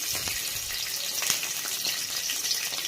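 Onion and garlic frying together in hot oil in a home kitchen, giving a steady close sizzle with small crackles and occasional stirring scrapes, no voices over it.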